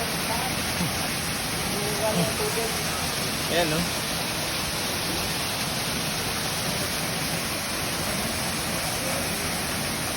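Kabugsakan Falls pouring with heavy, steady rushing water, a loud unbroken roar filling the scene close by, with brief laughter and a few spoken words over it.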